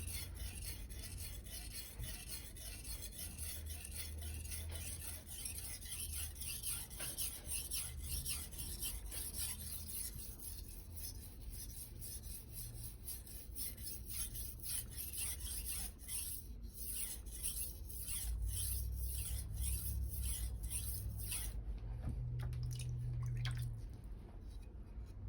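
Knife honed on a Naniwa Economical 1000/3000 grit multi-stone, a steady wet rasping of blade strokes on the stone that continues evenly and fairly quietly throughout, with a slight shift near the end.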